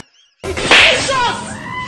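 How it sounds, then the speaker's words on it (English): A sharp face slap in a Nollywood film scene, a single loud close smack with a brief swishing tail that rings out right after a short silence. "Mazi, just slap my face"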